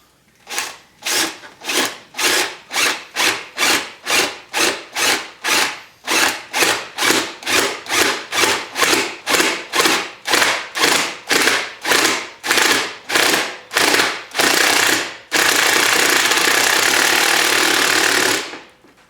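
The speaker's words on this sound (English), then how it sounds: "I'm going to use a 3/4 inch spade bit to drill the initial hole, since it's just plastic anyway" A 3/4 inch spade bit drills through a plastic clutch cover on a Walker Evans Edition RZR 800, giving loud, rhythmic grinding bursts in steady repeated strokes, then a continuous whirring stretch near the end, with no talking.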